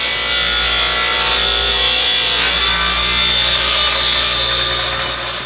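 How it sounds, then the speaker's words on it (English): A saw rips thin strips from a piece of ash wood, a loud, steady, continuous cutting whine with a faint high tone, close up and sustained throughout without any talking. "So now we're going to go over to the saw and cut some thin strips to start off with"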